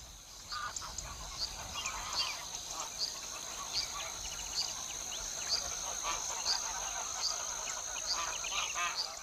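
Wild geese, the ancestors of domestic geese, honk repeatedly in a flock, their calls overlapping in a steady chorus at close to middle distance.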